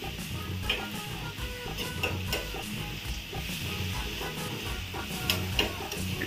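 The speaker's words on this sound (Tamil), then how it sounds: "அந்த இஞ்சி பூண்டு நல்லா மிக்ஸ் ஆகுற மாதிரி." Ginger and garlic are stirred and fried in oil in a pan, producing a quiet, continuous sizzle with soft scraping from stirring and occasional clicks.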